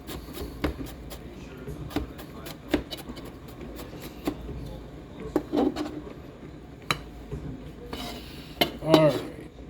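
Sharp knife taps on a cutting board repeat irregularly as tomatoes are chopped, mixed with light kitchen clatter and a brief murmur of voice near the end.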